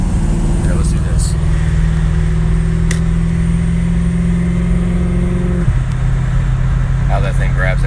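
A car engine drones loudly and steadily while driving in to work, then its pitch drops abruptly as it grabs the next gear, under constant cabin rumble.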